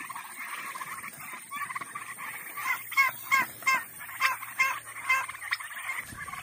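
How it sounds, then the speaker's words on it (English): Flock of turkeys let out onto pasture for the first time, a dense chorus of chirps and trills with louder rhythmic gobbling calls pulsing in the middle, close and continuous. "So we're letting all the turkeys out for the first time."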